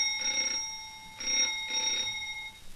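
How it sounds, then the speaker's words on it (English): An early-1930s telephone bell rings in two bursts with a pause between them, bright metallic trilling heard close and alone with no talk. "I'll ring them again."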